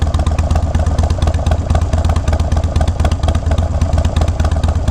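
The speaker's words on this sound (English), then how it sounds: "there's the exhaust. This sounds pretty good in my opinion." A motorcycle fitted with aftermarket slip-on mufflers idles close by, its exhaust giving a loud, steady, lumpy rhythmic burble throughout.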